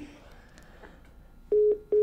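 A telephone number is dialed as a few short, loud DTMF beeps in quick succession near the end, after a quieter stretch of faint background sound.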